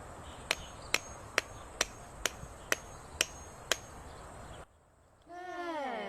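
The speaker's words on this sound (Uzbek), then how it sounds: "hozir buni bolg'a bilan ursam kartoshka pastga tushadimi?" A hammer strikes an object holding a potato with eight sharp, evenly spaced knocks, crisp and close in a quiet room, followed by a brief pause and a rising whistling tone.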